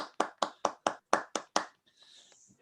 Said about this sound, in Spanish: yo te aplaudo.